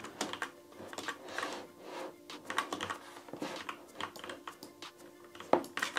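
A keyboard and mouse click rapidly and irregularly while someone plays Call of Duty Black Ops 6 zombies on an Xbox Series X, the keys tapping close and crisp with occasional louder presses.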